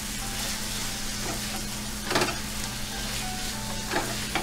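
Onions frying with salt and chili powder, stirred in the pan: a constant close sizzle over a low hum, broken by a couple of scraping stirs, with no talk.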